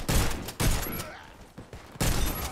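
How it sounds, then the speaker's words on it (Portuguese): Bursts of gunfire in the Warface video game, several loud volleys of shots separated by brief pauses, with a player talking over them. "Opa, alguém atirou aqui."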